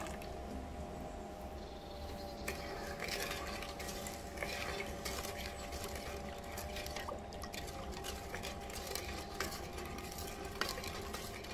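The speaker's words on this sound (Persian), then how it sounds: "مدام هم بزنید تا رنگش تغییر کنه و غلیظ بشه." Sugar and milk get stirred in a pot over heat, giving faint, continuous liquid swishing with small clinks and drips of a spoon against the pot, and no voices.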